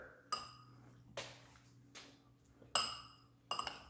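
Shredded coleslaw ingredients tossed together in a bowl, heard as four separate clinking knocks of a utensil against the bowl, spaced a second or so apart, close but fairly quiet.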